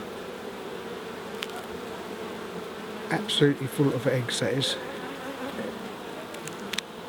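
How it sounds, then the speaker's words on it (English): Honeybees buzz in a hive as a worker bee emerges from its cell, a steady close hum that swells into louder bursts midway, with someone talking quietly over it. "There's a bee emerging there, look, right in front of our eyes, a worker."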